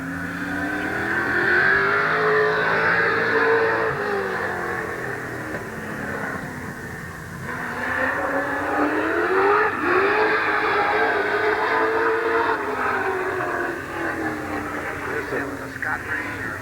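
Race cars at Midvale Speedway's 1988 fall classic roar continuously, engines rising and falling as they circle the track, with a voice talking over the engine noise throughout.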